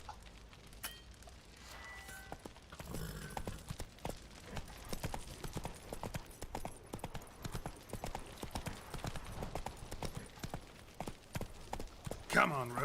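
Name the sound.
horse Roach trotting hooves in The Witcher 3 video game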